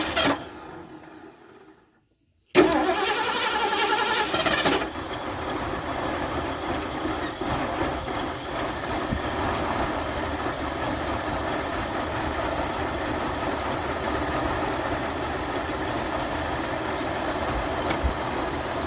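A 1978 Mercury Marquis Brougham V8 cranks over after a brief silence, catches and settles into a steady, rough, loud idle with a constant mechanical rumble and slight knocking.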